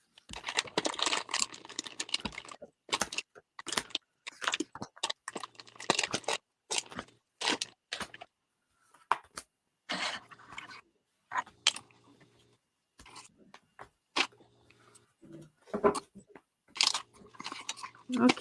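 Tarot cards are picked up, shuffled and handled in short crisp bursts of slapping, sliding and crinkling, close and fairly quiet, with silent gaps between them and a voice talking at times.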